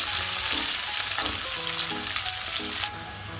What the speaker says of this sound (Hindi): और प्याज को लाइट गोल्डन ब्राउन होने तक अच्छे से भून लेंगे।